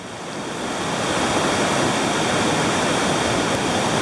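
River water rushing hard through a deep pool swollen by winter rain, a steady, dense roar of turbulent flow that swells in over the first second and holds loud and close with no voices.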